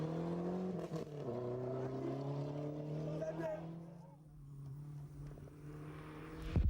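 Lancia rally car engine at the 1989 Côte d'Ivoire Rally, a steady droning note that shifts pitch as the car drives on, with a commentator talking over it and a sharp burst at the end.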